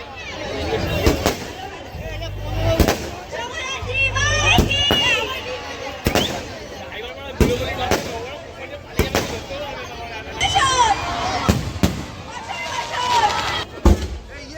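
Fireworks burst repeatedly in the night sky in a long barrage of sharp, loud booms and crackles at irregular intervals, with crowd chatter and excited voices throughout.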